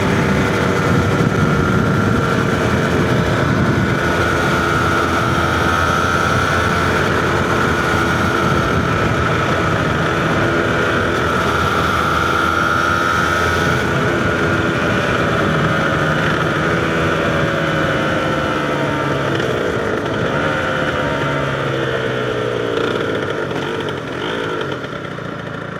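Yamaha TZR 250R two-stroke motorcycle engine idles steadily while warming up on a cold day, a continuous buzzing drone with slight revving wobbles, close and fairly loud, easing off near the end.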